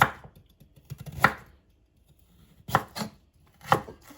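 A knife thinly slices peeled carrots on a cutting board, producing clusters of crisp, close chopping knocks separated by short pauses.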